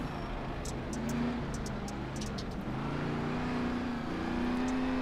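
Race cars roar around a short oval track in a national touring series event at Knoxville, a steady engine drone with rising and falling revs, heard at a distance without clear passes.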